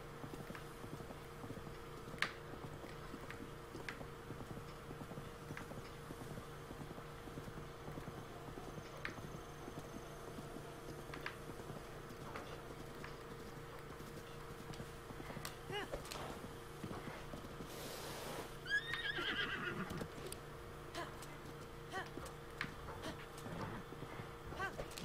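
Horse hooves clip-clop at a moderate distance in The Legend of Zelda: Breath of the Wild, with intermittent hoof steps and a brief neigh near the end over ambient game music.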